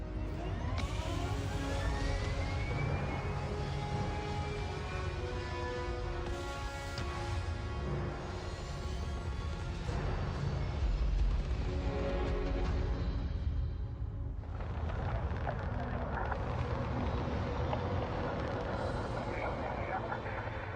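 A spaceship lifts off in the game Starfield with a loud, sustained engine roar and rumble that swells and shifts over about twenty seconds, with voices talking over it.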